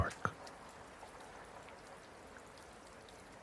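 Soft rain falling on tree bark during a storm, a faint, steady hiss of drops with a couple of brief louder taps near the start.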